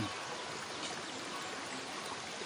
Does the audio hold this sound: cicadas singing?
no